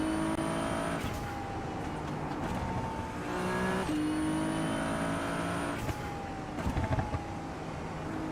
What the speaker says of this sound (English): The downshifts in this are really nice. That little pop in the exhaust is really nice.